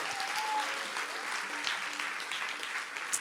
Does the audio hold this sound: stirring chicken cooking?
no